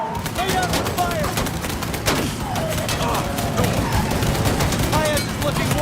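Mafia 3 gunfight with sustained rapid gunfire, many overlapping shots popping continuously at mid distance, steady and dense throughout, with occasional louder close cracks and faint game voices underneath.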